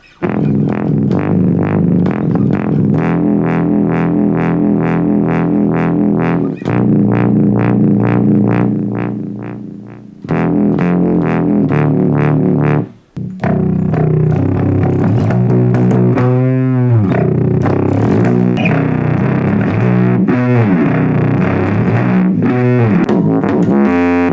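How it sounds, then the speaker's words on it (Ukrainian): A loud, buzzy synthesizer tone run through a Bass POD bass amp modeler, with a gritty, distorted bass character, plays continuously, its pitch sweeping and warbling in places. "Тепер ми змінюємо саму хвилю синтезатора."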